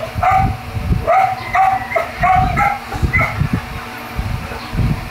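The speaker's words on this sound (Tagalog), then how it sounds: "Yung mga aso, pag nakakakita ng aso, tawol ng tawol." Dogs barking and yipping outdoors at a rural Filipino home, repeated close barks in quick bursts with some whimpering yips over a low background rumble.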